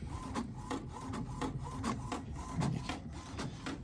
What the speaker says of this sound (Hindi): ये देखिए प्रॉपर वे में प्रिंट हो रहे हैं, कोई भी मिस प्रिंट नहीं है